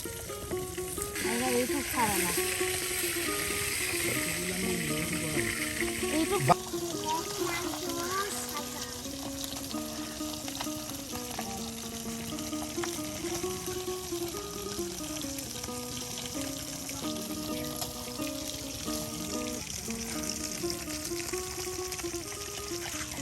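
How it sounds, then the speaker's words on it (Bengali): Tilapia pieces frying in hot oil in an outdoor forest kitchen, a steady loud sizzle running throughout, with a brief clatter partway through and faint background voices. "এই যে দেখুন মাছগুলো এখন ভেজে নেওয়া হয়েছে"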